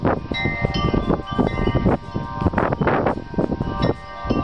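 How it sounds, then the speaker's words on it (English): Wind picking up outdoors on a bright day, gusting in uneven surges that buffet the microphone with rustling, rumbling bursts, fairly close and loud throughout, with no talking. "The wind just suddenly picked up."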